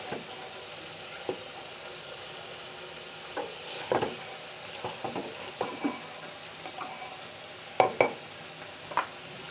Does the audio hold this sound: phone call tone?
no